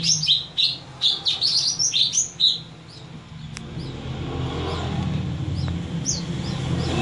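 Young male and female magpie robins (kacer) give a burst of loud, close, high chirps, then quieter scattered calls over a rising background rumble.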